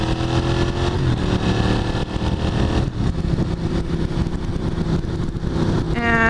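A motorcycle accelerates hard on the way to a gas station. The engine revs loudly and continuously, with the pitch climbing through several gear changes.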